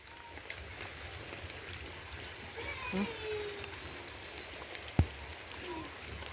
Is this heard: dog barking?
no